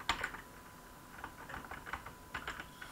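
Quiet, close clicking of a computer keyboard as a username is typed while setting up a Minecraft server, a brisk irregular run of keystrokes with no voices.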